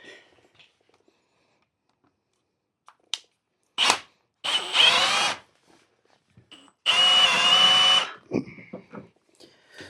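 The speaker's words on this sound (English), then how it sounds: "So all I did, I just drilled that a bit out on more of an angle" A power drill enlarges a hole in a boat trailer bracket during a restoration job, running in two close, loud bursts of a few seconds each, separated by brief quiet handling noises and no talk.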